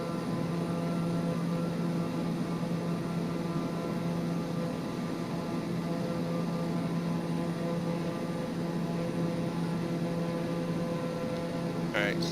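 A propeller airplane engine runs at maximum throttle in a Flight Simulator video game, a steady, loud droning hum with fixed tonal overtones that holds unchanged, with a brief bit of talk near the end.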